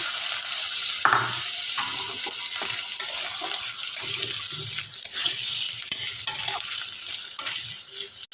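Potato curry with salt and coriander paste being stirred in a pan: a continuous sizzle under repeated scraping of a spoon against the pan, with scattered knocks and clinks.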